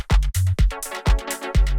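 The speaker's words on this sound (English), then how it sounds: "We have like this shaker." A minimal house percussion loop with a bright shaker ticking over punchy kick drums and a short tonal bass stab, all repeating in a tight, loud groove.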